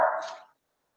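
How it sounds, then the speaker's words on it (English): A pet dog in a room gives one short, sharp bark close by, which fades quickly into silence. "Oh, I'm so sorry about my dog."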